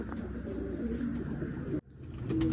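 Soft, low cooing of several pigeons blends into a steady murmur of birds, broken by a brief drop in sound before the cooing resumes.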